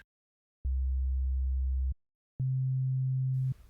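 A pure sine wave from a Phase Plant analog synth oscillator sounds as two smooth, hollow tones, one low and one slightly higher, each held about a second with silence between.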